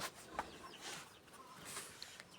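Chickens clucking faintly at a distance, a few soft scattered clucks over quiet background hiss.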